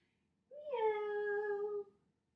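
A single voice imitates a cat's meow during a children's storytime, one clear, sustained, close meow about a second and a half long, alone against a quiet background.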